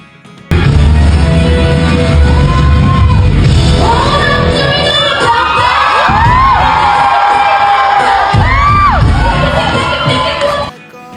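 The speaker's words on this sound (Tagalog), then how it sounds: "Sigawan ang lahat ng mga audience" A television studio audience screams and cheers at a dance performance on It's Showtime, a loud continuous roar of high shrieks and whoops that holds for about ten seconds before cutting off.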